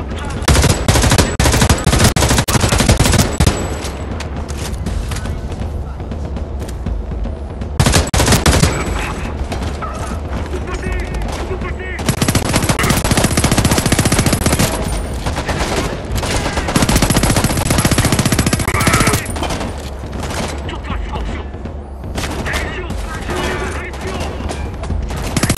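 Heavy bursts of automatic and rapid gunfire in the video game Homefront: The Revolution, loud and nearly continuous with short pauses, layered over game sound and occasional voices.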